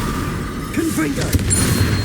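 A blasting spell explosion in a wizard video game: a short, muffled boom over a steady rumbling background, with a voice speaking around it.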